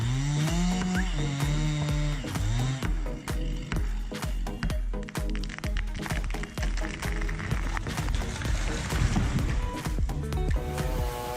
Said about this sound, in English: Huge blocks of wood were cut down by saws with fast speeds and sharp blades.